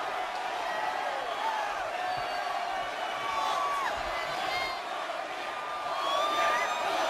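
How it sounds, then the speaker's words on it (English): A wrestling arena crowd at a televised match roars and chants for Hulk Hogan, a steady, fairly distant wall of voices with whoops rising through it. "This crowd chanting for Hulk Hogan."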